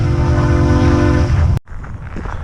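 A train rumbles loud and close with a sustained horn-like tonal drone, then cuts off abruptly, leaving quieter broadband rail noise.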